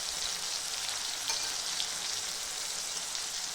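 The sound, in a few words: tomatoes frying in oil with chili powder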